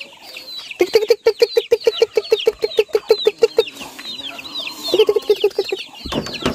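Rhode Island Red chickens cluck busily while feeding, a rapid rhythmic run of close clucks followed by scattered calls and chirps from the flock, ending in a brief rustle.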